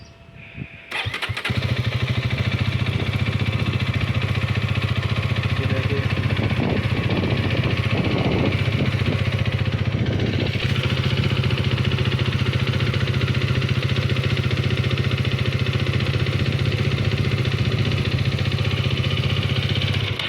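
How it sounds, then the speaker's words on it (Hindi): A Hero Karizma XMR motorcycle engine idles steadily and loudly up close after starting, with a rapid ticking chatter running through the hum; one brief spoken word early on. "आपने सुनी होगी चिक चिक चिक चिक चिक की जो आवाज़ आ रही है ना, वो बहुत ज़्यादा है।"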